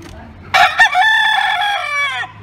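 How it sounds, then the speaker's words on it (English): A rooster in Bali crows once, loud and close, a single drawn-out call lasting about two seconds with a brief rise at the start and a falling end. "I don't see roosters very often"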